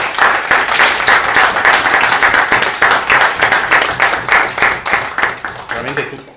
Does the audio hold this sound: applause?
yes